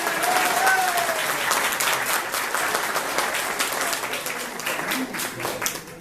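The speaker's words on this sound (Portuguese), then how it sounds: "Palmas pra ela que inventou a mediunidade!" Audience applause for a woman named Zenira at a gathering, a dense, steady wash of clapping from many hands that holds loud for about six seconds, with a brief voice over it at the start.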